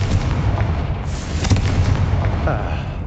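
Confringo fire spell explosions in the Hogwarts Legacy video game: a dense, continuous rumble of blasts and crackling bursts, with a sharper burst near the middle, layered over steady game ambience.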